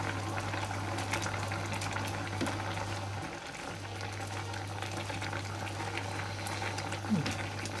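Homemade apple compote simmering in a pot makes a steady, close bubbling hiss under a constant low hum, loud and continuous throughout.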